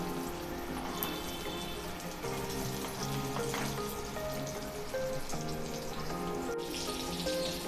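Surmai (kingfish) pieces shallow frying in a pan with garlic on top, giving a steady, close crackling sizzle throughout, with faint steady tones in the background.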